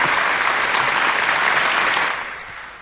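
A retreat audience gives sustained, dense applause at close range, holding steady for a couple of seconds before tapering off at the end.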